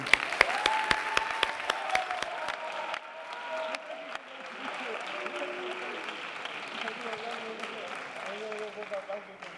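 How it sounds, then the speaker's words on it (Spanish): An audience applauds a monologue comedian at a competition semifinal, a burst of claps at first that thins out while musical tones play over it. "un aplauso para Marle Bosque"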